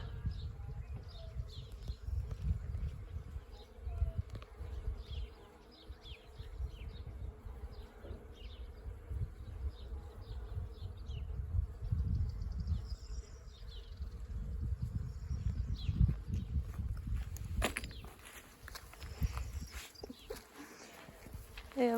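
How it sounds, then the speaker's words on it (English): Bees swarm and buzz inside a tree outdoors, a steady low hum that persists throughout, with a person talking over it at times and brief rustling near the end. "It's full of bees."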